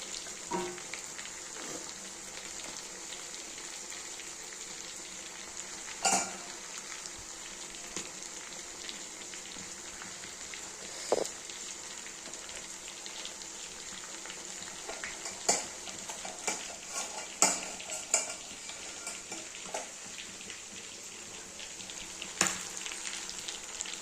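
Chicken pakoras frying in oil, a steady faint hiss of bubbling fat running throughout with scattered sharp pops and crackles, close but quiet, no voices.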